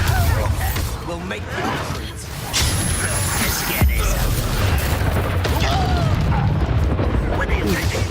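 Blasts and crashes from combat in Hogwarts Legacy, with one sharp boom partway through, mixed with continuous game noise while someone talks over it.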